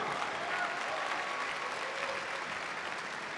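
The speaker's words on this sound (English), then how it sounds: "Ladies and gentlemen, round of applause for both warriors this evening." A grappling event crowd applauds both fighters after a bout, steady, loud sustained clapping and cheering from a large arena audience with no break.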